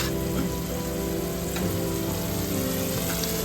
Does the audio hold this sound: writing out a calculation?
no